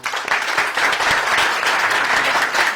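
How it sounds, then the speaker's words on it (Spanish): Applause from the audience at an academic conference on lithium microbatteries, following thanks to a speaker. It is a dense, steady patter of many hands that runs throughout at a fairly loud level, with no talk over it. "un fuerte aplauso, por favor"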